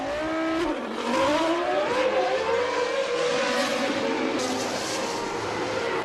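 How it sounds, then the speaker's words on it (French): Formula 1 race cars, Benetton Renault and Jordan Peugeot, leaving the pits at the 1997 Canadian Grand Prix, engine whine climbing and shifting through gears, loud and continuous with another car blending in. "Alesi repart devant Fisichella"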